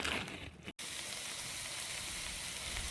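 Onions frying in a pan for a hearty breakfast, a steady close sizzle and crackle that runs nearly unbroken, with one brief dropout near the start.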